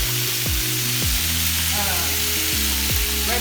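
Food cooks down in a pan with a steady, close sizzle and frying crackle, broken by a few sharp scrapes and stirs.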